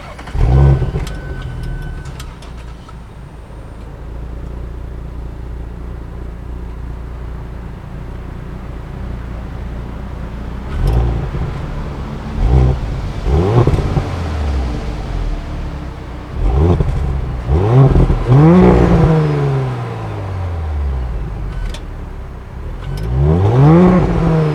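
A 2018 Audi S5 Sportback's 3-liter turbo V6 with an 8-speed automatic and quattro all-wheel drive, heard close and loud as it rises through repeated revving and accelerating pulls, the pitch sweeping up and falling back between gear changes.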